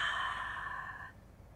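A single soft breath released through the mouth during a beginner Pilates mat exercise, a quiet airy exhale lasting about a second, heard close and alone before fading to silence.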